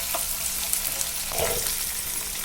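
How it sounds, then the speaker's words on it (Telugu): Ginger garlic paste with green chillies and curry leaves fries in hot oil for a brinjal chana dal curry, a constant close sizzle with a few soft stirring scrapes and crackles, no speech. "ఇది కొంచెం పచ్చివాసన పోయే వరకు వేపేసుకుందాం"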